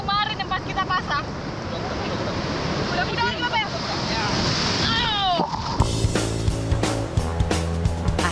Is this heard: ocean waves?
yes